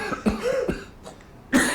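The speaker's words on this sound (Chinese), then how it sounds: "你们都啊，轮流咳嗽啊？" People in an indoor drama scene cough in turns, a quick series of short, close coughs and throat-clearing bursts separated by brief pauses, fairly quiet, with no speech.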